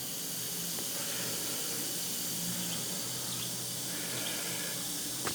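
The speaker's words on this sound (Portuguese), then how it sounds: "Dá até para ouvir aquele barulhinho de champanhe, de refrigerante" Steady fizzing hiss of gas bubbles rising from an HHO hydrogen electrolysis cell in a vehicle setup, a continuous soda-like effervescence heard close and alone without speech.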